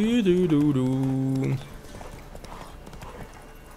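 Steady clip-clop of horse hooves in a quick rhythm in The Witcher 3: Wild Hunt, with a tonal voice-like sound over the first half, then the hoofbeats continue more quietly.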